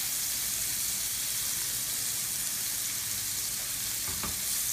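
Shrimp for garlic lemon linguine sizzle steadily in a frying pan, a constant close hiss of hot oil with a brief scrape of turning near the end.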